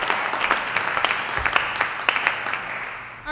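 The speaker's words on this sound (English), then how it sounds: "Big round of applause." Small audience at an open stage variety show giving a round of applause, with scattered distinct claps over a light crowd wash that thins out toward the end.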